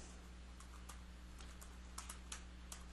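Soft, scattered keystrokes on a computer keyboard, a handful of light clicks spread unevenly over a few seconds against a steady low electrical hum, faint and with no talking.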